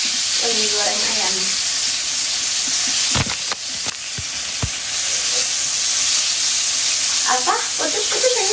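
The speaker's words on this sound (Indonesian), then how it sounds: "Lagi goreng ayam." Chicken frying in a pan gives a steady, loud sizzle throughout, with brief stirring clatters in the middle and faint speech near the start and end.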